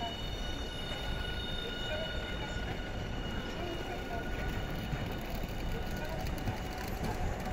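A train pulls into Hiroshima Station on the Sanyo Main Line, a steady rumbling roll of wheels and carriages filling the platform, with faint voices in the background.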